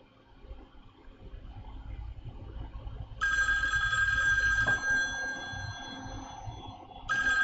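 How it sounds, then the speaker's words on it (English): A telephone rings with a steady electronic tone, starting partway through and sounding again near the end over low room noise at a micro-soldering bench. "Even better, a spam phone call."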